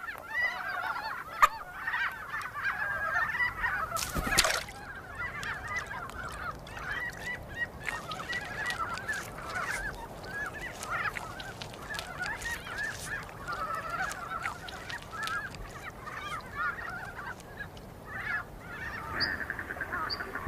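Wild cranes in Asia call repeatedly in cold early spring, several birds giving honking, trumpeting cries at a moderate distance, with no talk.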